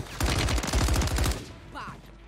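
Dense burst of automatic gunfire in Call of Duty Warzone 3, a rapid loud rattle of shots for over a second before cutting off, followed by a short faint electronic sound.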